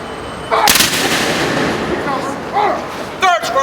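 Honor guard rifles fire a ceremonial volley at a Lincoln's Birthday observance at Philadelphia's Union League, sharp loud cracks with a lingering outdoor echo, followed by shouted drill commands.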